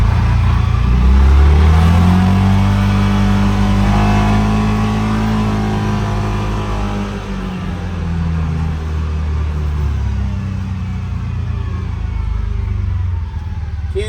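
Polaris-style UForce 600 side-by-side engine revving loudly up close while riding, a strong rumbling drone that swells early and then holds steady throughout.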